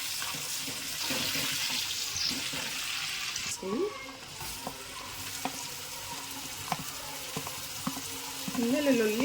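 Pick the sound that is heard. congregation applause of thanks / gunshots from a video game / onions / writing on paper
onions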